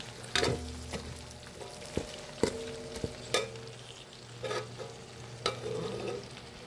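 Carrots stirred into frying pancit guisado, a soft continuous sizzle broken by repeated loud clanks and scrapes of a utensil against the pan at uneven intervals, all close by with no speech.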